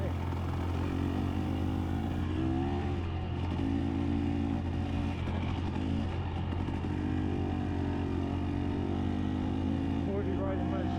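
A motorcycle rides steadily along a road, its engine droning loud and constant with small shifts in pitch and rushing wind throughout.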